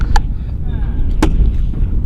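Two sharp rifle shots crack out at a precision rifle competition, 1400-yard stage, one early and one about a second later, each a quick loud report over a low rumbling background.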